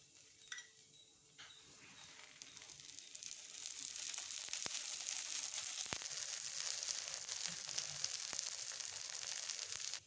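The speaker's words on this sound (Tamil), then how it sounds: "அடை வேகிறதுக்குங்க கொஞ்சமாக எண்ணெய் ஊற்றிக்கலாம்." Ragi adai, a finger millet pancake, fries in a little oil on a pan, giving a faint, soft sizzle that grows steadier and fuller after a few seconds, with no talking.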